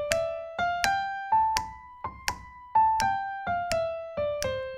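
Pitched tones played in a swung dotted-eighth jazz rhythm, a long-short-long pattern of about a dozen plucked or struck notes stepping up and down, clear and close with ringing tails and no speech.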